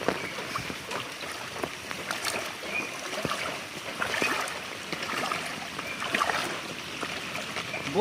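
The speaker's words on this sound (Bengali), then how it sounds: "বন্যা হয়ে গেছে।" Floodwater flows in Purba Medinipur with a continuous rushing, splashing wash and scattered small splatters, moderately close and even throughout.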